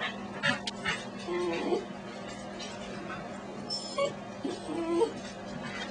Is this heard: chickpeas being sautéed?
no